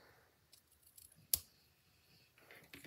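A single sharp, crisp snip of scissors stands out in a quiet room, with a few faint rustles and small clicks before and after.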